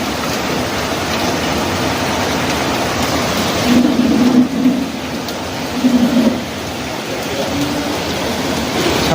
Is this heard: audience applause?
no